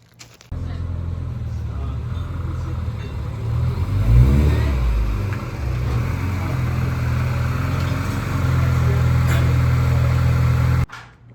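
A car engine runs steadily as the car rolls a short way up a driveway, with a low, close hum that swells briefly midway and settles into an even drone before cutting off.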